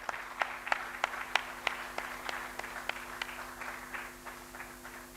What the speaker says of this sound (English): If just give a round of applause to each one of you.